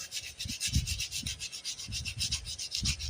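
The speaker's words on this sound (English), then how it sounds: "These magnets got quite a bit of rust on them. So we're going to take a little sandpaper and clean those up." Sandpaper scrubs rust off the magnets of a 1955 Briggs engine that sat in the dirt for decades, a close, steady back-and-forth rasp in repeated short strokes with no talking.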